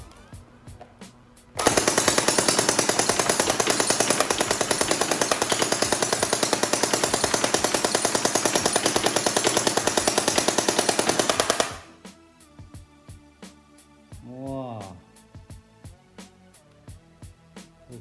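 Cyma MP5 gel blaster firing on full auto, a loud, close, continuous rattling burst lasting about ten seconds, followed by scattered mechanical clicks and a brief whirring sound.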